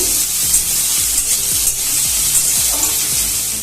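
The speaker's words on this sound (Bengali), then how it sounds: "পেঁয়াজগুলো একটু লাল লাল করে ভেজে নেব।" Chopped onions sizzle in a pan of oil, stirred with regular scraping strokes. The sound is close and steady, with no voices.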